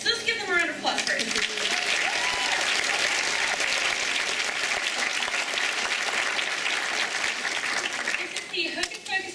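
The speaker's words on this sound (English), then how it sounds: "let's give them a round of applause first" A convention crowd at a 2012 New York Comic Con science fiction and fantasy author panel applauds, with loud, sustained clapping filling most of the span, and voices briefly audible at the start and the end.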